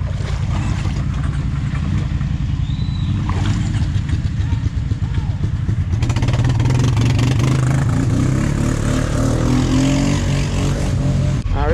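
A new four-wheeler ATV idles with its exhaust off, giving a steady, rough low rumble that runs without a break and swells louder in the second half.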